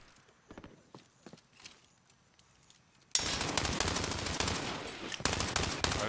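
Gunfire in Call of Duty Warzone: scattered faint shots and footsteps at first, then a sudden loud, dense burst of rapid automatic fire that keeps rattling to the end.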